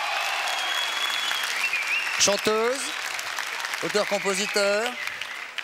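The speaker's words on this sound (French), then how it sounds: "Applaudissements, s'il vous plaît" Studio audience applause greets a singer on a French television variety show, a steady dense wash of clapping throughout, with a host's voice speaking over it in two short bursts.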